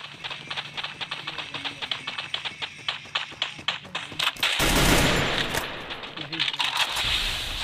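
Rapid bursts of gunfire in the video game Free Fire in quick succession, then a loud sustained blast of noise, with a crisp mechanical clatter throughout.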